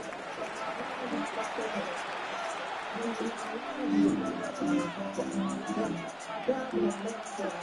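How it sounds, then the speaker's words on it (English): A stadium crowd in the Madden 26 football game murmurs and swells with cheering around third down, a moderate wash of hubbub with brief rises. "This crowd into it now as we get to 3rd down."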